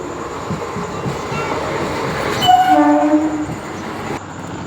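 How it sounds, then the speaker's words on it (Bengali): A passenger train pulls into a station on a hot day with a steady heavy rumble, then blasts a loud horn in the middle before rolling on. "ফাইনালি 1 ঘন্টা পর আমাদের ট্রেন এলো"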